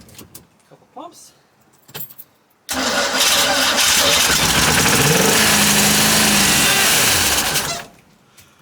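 A 1990s Cobalt boat engine, previously locked up, cranks and fires into a loud, steady running roar for about five seconds before cutting off, with a rising and falling pitch partway through and quieter clatter and brief sounds around it.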